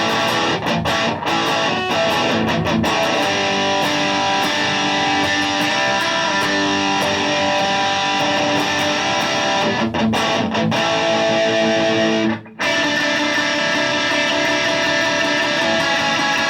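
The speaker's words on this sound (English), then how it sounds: "This is going to give you a little bit more of a modern distortion." An electric guitar played through a Blackstar HT 40 combo amp on its modern distortion voicing with reverb, loud and sustained with dense chords, briefly cutting out near the end before ringing again.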